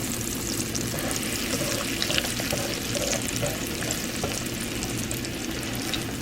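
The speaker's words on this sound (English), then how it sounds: "Because the schnitzel itself, you are sauteing." Schnitzel cordon bleu, a folded-over stuffed cutlet, sautés in a pan with a constant close sizzle and crackle, moderately soft and even throughout, with no talk.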